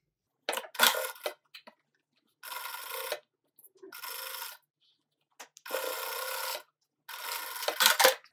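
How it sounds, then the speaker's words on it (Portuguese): A home sewing machine stitches a seam on a craft project made from a milk carton, running in several separate bursts of steady, close whirring with short silent pauses between them. "Deixa eu passar essa costurinha aqui"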